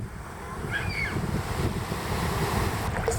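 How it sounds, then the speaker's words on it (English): Pacific Ocean waves wash onto a beach in Costa Rica, a continuous rushing roar of surf mixed with wind buffeting the microphone, building slightly louder toward the end. "I feel the waves blasting over my body here."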